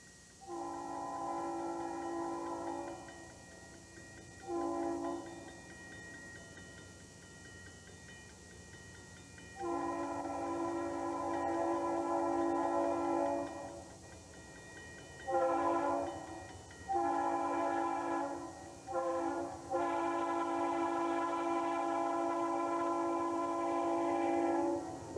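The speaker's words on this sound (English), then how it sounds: "This creates interesting train watching at Starkville." A Santa Fe freight train with helper locomotives near Starkville, sounding repeated long multi-tone horn blasts in a broken pattern over a low rumble of engines, fairly distant and without talk.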